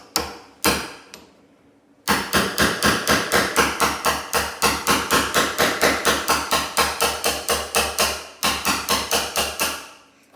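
A hammer drives a chisel into a door edge to cut a hinge mortise, starting with a few separate strikes and then moving into a long, even run of sharp, loud blows with a brief pause near the end.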